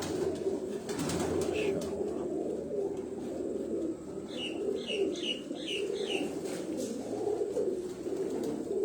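Pigeons of a racing breed cooing on a rooftop loft, a soft repeated burst of coos and chirps partway through over a low steady background hum, with no one talking.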